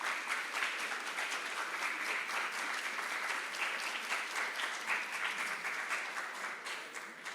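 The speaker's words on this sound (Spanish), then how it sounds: "Otro aplauso para Paula Vázquez" An audience applauds after an audiovisual presentation, a steady, dense round of clapping held at even loudness throughout, fading slightly at the end, with no voices over it.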